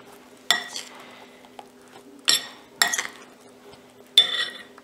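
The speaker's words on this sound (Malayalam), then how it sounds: "ഇതിലേക്ക് നമുക്ക് നമുക്ക് നന്നായി മിക്സ് ചെയ്ത് കൊടുക്കാം" Food with masala and crushed ginger stirred in a pot, four separate bursts of metal spoon scraping and clinking against the pot, close and sharp, with quiet gaps between them and no speech.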